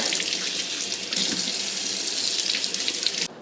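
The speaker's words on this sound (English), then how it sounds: "I'll wash all of them again once they're in the colander" Vegetables are washed in a colander under a kitchen tap, with a steady, close rush of running water splashing continuously for a few seconds before it cuts off.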